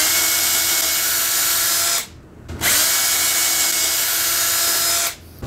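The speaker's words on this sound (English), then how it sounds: "now I have the holes drilled for 4 dowels" A power drill bores dowel holes through a Dowel Wizard jig in two loud, close, steady whines separated by a short pause, then starts again at the end.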